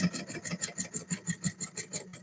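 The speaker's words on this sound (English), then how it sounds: "I'm just kind of using the scraper here to use my feeler gauge" A scraper held against a spinning wooden bowl on a lathe gives a close, rhythmic rasping, about a dozen even pulses repeating quickly, quiet and alone.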